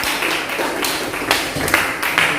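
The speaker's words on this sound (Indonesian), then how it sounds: "Beri tepuk tangan kita untuk kelompok 4." Classroom applause for a student group, a short burst of many hands clapping unevenly close by.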